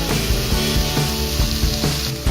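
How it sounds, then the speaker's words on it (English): Paneer fried rice mixture with sugar, black pepper and ketchup stirred in a hot pan, a loud, dense sizzle with rhythmic scraping thumps from the spatula, close up and with no talk. "Give it a good stir."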